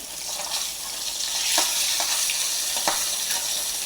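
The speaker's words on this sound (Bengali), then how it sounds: "খুব সুন্দর করে তেলে ফ্রাই করে নিচ্ছি" Steady crackling sizzle of rohu fish pieces frying in hot oil, continuous and close, with a few sharper pops and spatters.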